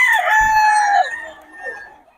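A gamefowl rooster from a farm crows once, loud and close, with a long sustained call that trails off, and no talking.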